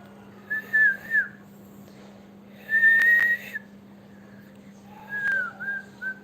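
A person whistles three short sliding melodic phrases, separated by pauses, close and fairly clear over a low steady background hum in a live vlog stream.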